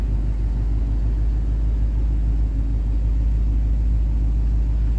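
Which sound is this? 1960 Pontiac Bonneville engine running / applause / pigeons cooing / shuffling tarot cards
1960 Pontiac Bonneville engine running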